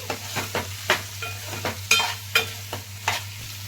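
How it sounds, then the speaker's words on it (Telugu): Fried bitter gourd pieces go into a pan of onions and are stirred, a steady run of scraping clatters at roughly half-second intervals over a soft sizzle and a low steady hum. "ఫ్రై చేసిన కాకరకాయ ముక్కలు వేసేద్దాం"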